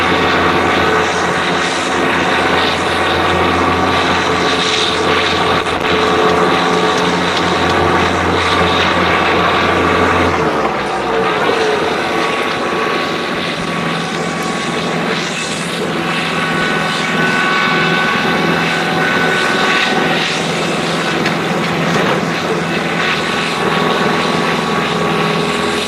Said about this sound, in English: Obviously, I'm just mowing here along the hayfield edges.